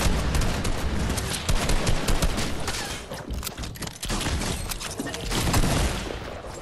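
Dense, continuous gunfire from the video game Fortnite, rapid overlapping shots and bursts forming a loud fusillade that runs for the whole stretch with only brief dips, with no speech over it.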